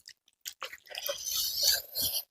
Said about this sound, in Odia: ଖାଇବା ଷ୍ଟାର୍ଟ କରିବା